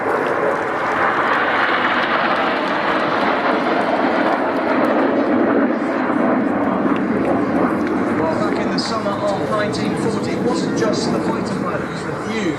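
A Supermarine Spitfire flies past at the 2015 East Fortune airshow, its engine a broad, steady roar that swells and holds, with a public-address voice talking over it throughout.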